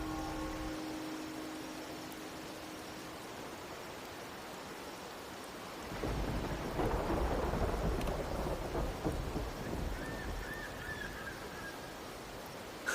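Steady rain hisses in the Wuthering Waves video game, and a deep rumble of thunder swells about halfway through, then rolls on under the downpour with no voices.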